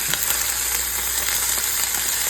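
Beer-infused Italian sausages fry with onions and peppers in a pan, giving a steady close sizzle and crackle with scattered pops and no talking.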